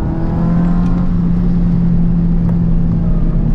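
A car driven hard on a racing circuit at full throttle, its engine droning loud and steady with a sustained low tone and no audible talk.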